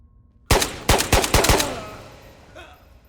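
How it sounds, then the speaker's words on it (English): Video game gunfire in a close, loud series of about five sharp shots, each with a ringing decay into a fading tail, followed by a faint later report. "There's a lot of gunfire happening over here."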